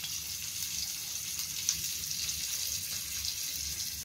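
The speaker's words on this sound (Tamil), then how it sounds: "பொழிச்சதுக்கு மீன் ஒரு சைடு ஃப்ரை ஆகிட்டு இருக்கு" Fish frying in oil in a kadai, Kerala-style pollichathu, giving a steady, even hiss and light crackle throughout, moderately close with no talking.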